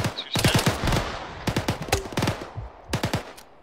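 Military video game squad practice with rapid gunfire: several quick bursts of sharp automatic shots in short clusters, close and loud over a steady background.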